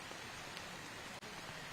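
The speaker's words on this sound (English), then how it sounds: "the rain falling after the huge mistake previous hole" Steady rain falls across a disc golf course, a dense, even hiss of drops with no pauses, close and moderately loud, the wash holding constant throughout.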